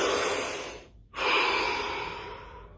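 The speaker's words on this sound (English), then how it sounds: "Deep breath." One deep breath drawn in and then let out, close and alone, with a brief quiet gap between the inhale and the long exhale during a relaxation exercise.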